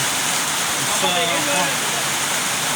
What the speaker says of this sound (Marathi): भरपूर पाऊस, भरपूर पाऊस पडला.